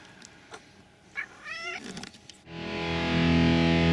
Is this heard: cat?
yes